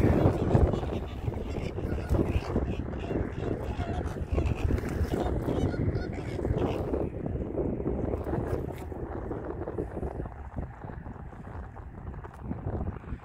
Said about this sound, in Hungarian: Itt vannak a flamingyók.